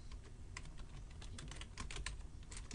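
Steady run of quick computer-keyboard keystrokes, close and moderately loud, with irregular clusters of clicks throughout and no voices.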